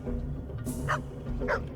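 Dog barking in the video game Copycat, two short yelping barks about half a second apart, moderately near, over a steady low game background hum.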